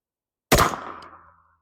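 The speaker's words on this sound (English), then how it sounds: "last one up for the critical defense 115 grain is our AR pistol" A single sharp, loud gunshot from an AR pistol firing a 9mm Critical Defense 115 grain round into ballistic gel, cracking at close range and then fading in a short echoing tail.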